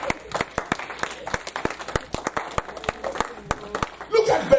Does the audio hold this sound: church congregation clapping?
yes